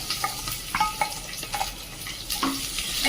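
Sliced onion with crushed cumin and a pinch of asafoetida sautés in a pan for a coriander-mint rice, a soft continuous sizzle punctuated by intermittent spatula scrapes and small clinks.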